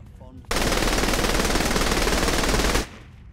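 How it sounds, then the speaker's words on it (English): Sustained automatic gunfire in the Saints Row: The Third video game, a loud continuous burst of rapid shots lasting a little over two seconds before cutting off, with a faint voice just before it. "Let me shoot it instead!"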